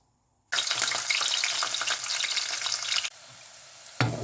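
Dried red chillies fry in hot oil in a pan, a dense, steady sizzle that starts abruptly and runs loud and close for about two and a half seconds, then drops to a softer crackle with a brief clatter near the end.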